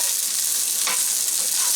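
Onions sizzling steadily in olive oil in a hot pot over a low flame, a continuous close frying hiss with a few faint crackles and no talk.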